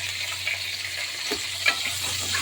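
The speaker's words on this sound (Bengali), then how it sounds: "মাছের তেলটা ভাজা হয়ে গেছে," Fish frying in hot oil gives a steady, close broadband sizzle throughout, with a few soft stirring clicks and scrapes rising briefly above it.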